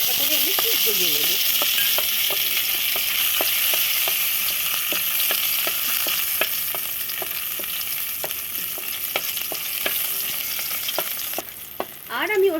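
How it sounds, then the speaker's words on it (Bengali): Cashews and raisins fry in refined oil in a wok for jhal suji, a steady close sizzle with repeated sharp stirring clicks, continuous and alone until a brief change near the end. "কাজু কিশমিশটা আমি হালকা করে আমি একটু ভেজে নেব।"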